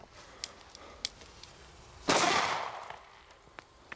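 A D-Böller firecracker bursts with a single sharp, loud bang that decays into a rushing tail, preceded by a few faint crackles and pops in the background.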